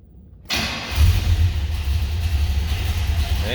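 A 1970 Pontiac LeMans Sport Convertible's engine cranks on a cold start and catches after a short silence, settling into a loud, steady rumbling idle close by.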